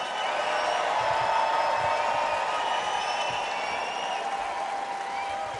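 A large crowd at the 2024 Republican National Convention in Milwaukee applauds in a dense, steady roar of clapping and crowd noise that carries on evenly throughout.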